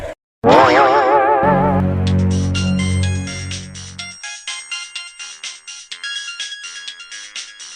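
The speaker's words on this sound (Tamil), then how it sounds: "இந்த ரிங் டோன் எங்க வந்து கேக்குது" A phone ringtone plays loudly and close: a warbling electronic tone with a sustained chord, followed by a rapid, bright series of plucked chime notes that fade in and out rhythmically.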